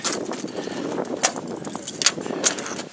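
A metal key is pushed and jiggled in a stuck door lock, giving repeated close scraping, clicking and jangling sounds at an irregular rhythm, with no talking.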